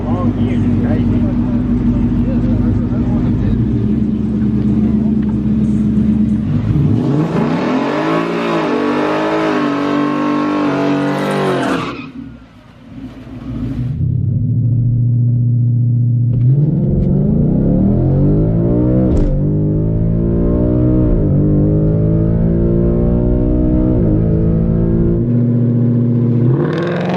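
A street drag car's engine revs up hard and close, climbing through gears on a test pass in hot, humid conditions, dropping briefly before pulling loudly again, while people talk under the roar.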